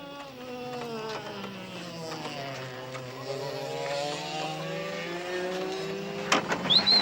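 A car with a small fraction of a Grand Prix car's power is driven on a track in Brazil in 1990, its engine droning and whining as the pitch rises and falls, fairly close and steady.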